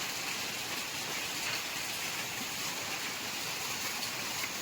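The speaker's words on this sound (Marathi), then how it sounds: "हा अवकाळी आलेला पाऊस शेतकऱ्याच्या दृष्टीने खूपच घातक आहे." Unseasonal rain pours steadily and densely over farm fields, a continuous close hiss of drops with no break and no voices.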